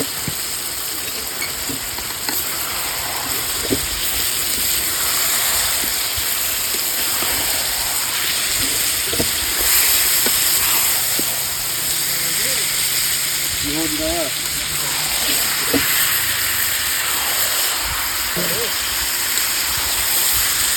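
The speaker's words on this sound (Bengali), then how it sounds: "আমাদের মাংস ভাজা ভাজা করে একদম কষে নিচ্ছি।" Chicken meat fries and sizzles in a pot while being cooked down dry for a chicken kosha, with a loud, continuous close hiss and occasional stirring scrapes.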